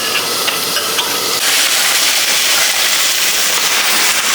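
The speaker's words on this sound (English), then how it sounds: "So cook my steak in ghee." Steak searing in ghee in a hot pan, giving a steady, loud, broadband hiss and crackle that holds without a break and grows slightly denser partway through.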